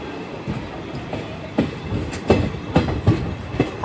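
The Porbandar–Jetalsar passenger train, number 59562, runs just after leaving Dhoraji station, with a steady rumble and clickety-clack wheel beats on the rail joints growing louder toward the end.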